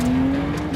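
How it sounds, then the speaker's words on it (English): A Pagani Huayra BC supercar with a 7-speed sequential gearbox snaps through a fast gear change, its engine holding a steady loud tone close by for under a second with no break. "Wow, that is a really fast gear change."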